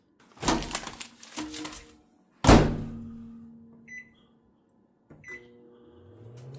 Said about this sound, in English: you push that popcorn button and it does this